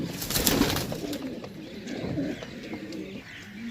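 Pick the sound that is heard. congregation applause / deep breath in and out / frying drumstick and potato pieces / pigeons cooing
pigeons cooing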